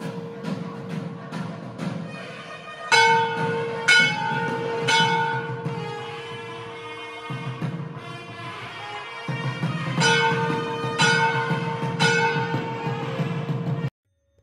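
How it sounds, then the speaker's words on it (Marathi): A temple bell rings for the aarti at Brihadeeswara Temple in Thanjavur, clear metallic strikes repeating in uneven bursts with lingering ringing tones, loud and close. "त्यानंतर मंदिरात घंटानाद झाला आणि आरतीला सुरुवात झाली"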